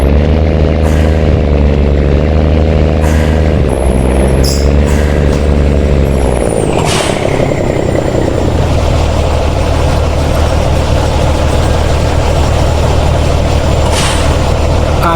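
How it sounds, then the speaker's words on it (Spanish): A Kenworth K100 truck engine in Truck Simulator Big Rigs, a loud low steady rumble throughout, with a hiss like an air brake release and a change in engine tone partway through, no talk. "Y ahora, mi gente, escuchemos este motor."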